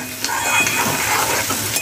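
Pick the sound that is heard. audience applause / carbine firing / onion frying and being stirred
onion frying and being stirred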